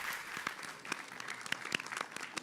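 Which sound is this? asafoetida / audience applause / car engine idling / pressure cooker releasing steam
audience applause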